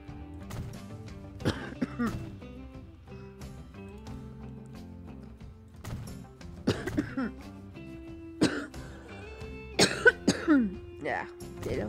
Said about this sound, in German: Ja, der Husten.